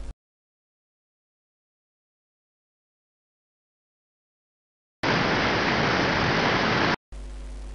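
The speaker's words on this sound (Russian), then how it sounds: "водопад" A rushing waterfall roars as a dense, steady wash of sound for about two seconds after a long silence, then cuts off abruptly.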